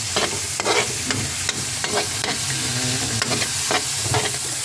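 Tilapia frying in a pan for a home lunch, a steady close crackling sizzle with bursts of spattering and occasional stirring or scraping, no voices.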